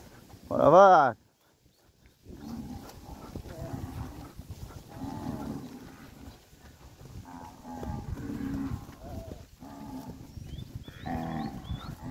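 A cow gives one loud, close moo at the start during vaccination work with a herd, followed by a man calling to the cattle and fainter lowing and movement.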